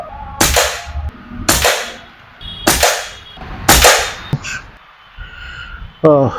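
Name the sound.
air rifle shot firing H&N Barracuda pellet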